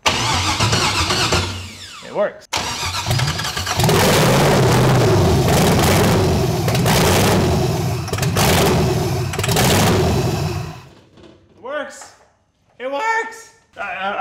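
LS V8 engine swapped into a Mazda Miata cranks and fires up on starter fluid, running loud and rough for several seconds before cutting out, followed by people talking and reacting up close.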